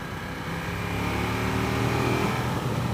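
2015 Ducati Diavel Carbon Edition motorcycle revving after a downshift into fourth, engine pitch climbing steadily under heavy wind rush, heard from the rider's position.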